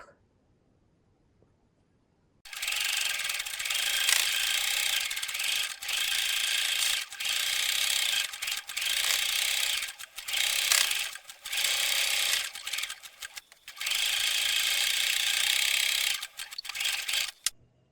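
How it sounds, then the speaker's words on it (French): Sewing machine stitching a fabric seam, a loud continuous mechanical whirring in long runs broken by short stops, close up and alone. "On va faire une couture tout le long à 1 cm."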